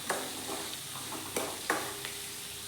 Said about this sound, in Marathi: थोडीशी हळद टाकून घेणार आहे आणि चांगलं हलवत राहायचे